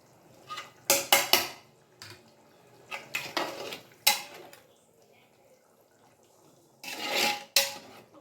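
Hyderabadi biryani masala being mixed in a metal pot: short bursts of spoon scraping and clinking against the pot, separated by quiet gaps.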